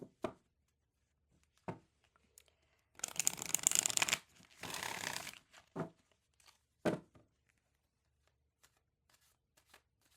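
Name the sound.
shuffling and pulling oracle cards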